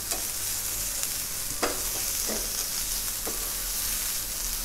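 Fish frying in a pan on a gas stove, a steady broadband sizzle with occasional stirring scrapes and brief clicks, moderately loud and continuous with no talking.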